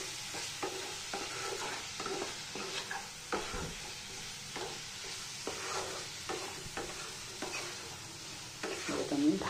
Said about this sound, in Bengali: এবার এটাকে আমি ভালো করে কষিয়ে নেব